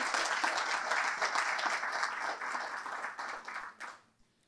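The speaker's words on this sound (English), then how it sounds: "Another big round of applause for the Assistant Deputy Minister." Audience applause for an Assistant Deputy Minister at a panel event, dense clapping from a room of people that thins out and fades to near silence at the end.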